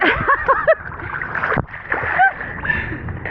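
Choppy salty sea water off Mykonos splashes around a swimmer in a series of close, uneven sloshes and slaps, with voices and breathy exclamations mixed in.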